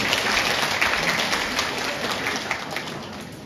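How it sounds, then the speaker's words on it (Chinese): A theatre audience at a Deyunshe crosstalk evening show at Xinjiekou applauds steadily to welcome the performers, a dense, even wash of clapping that fades slightly toward the end. "谢谢各位的掌声鼓励"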